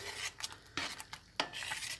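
A spoon scrapes and clinks against a pot while soup thickened with flour is stirred on the stove. The sound is quiet and close, with irregular strokes and a faint background hiss.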